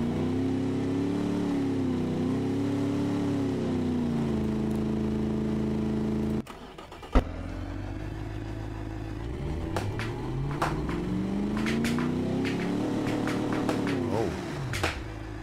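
Big V8 engine near 5.7 liters, modeled on the LS, built in the Automation car game, revs up and settles repeatedly; a loud, steady drone with rising and falling pitch sweeps, including a brief cutout midway.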